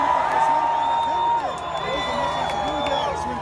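Rally crowd in Fountain Hills, Arizona cheering and shouting continuously at close range, with whoops and scattered claps swelling around a speaker's voice.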